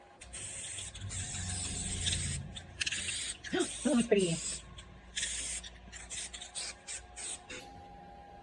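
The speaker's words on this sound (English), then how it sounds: "we're gonna spray the brace now." Several short hissing bursts of cleaner spray onto a thurible come in quick succession, with a brief metallic squeak and a person speaking briefly in between.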